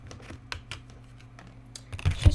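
Tarot cards being shuffled nearby, a series of quick light clicks and flutters that build into a louder riffle at the end.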